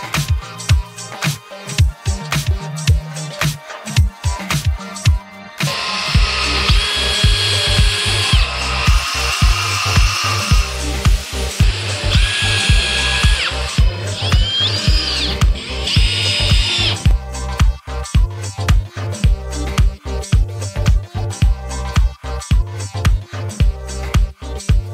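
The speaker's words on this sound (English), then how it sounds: "We use the machine to mark the locations where we can put screws safely." A newly installed CNC machine marks screw locations on wooden floor panels for a sailboat; loud repeated mechanical bursts and whirring, with a denser sustained grinding stretch in the middle, close with no voices.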